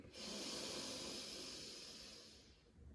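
A long, steady inhale through the nose during a seated yoga breathing exercise, a close, soft airy hiss lasting a few seconds before tapering off.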